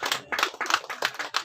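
Clapping from an audience at a yoga convention comes as brisk, closely spaced hand claps in an even, rhythmic pattern, fairly near and loud.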